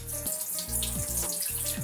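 Tap water runs into a bathroom washbasin, rinsing soap foam from the bowl, a steady splashing flow that rises and breaks off in short surges.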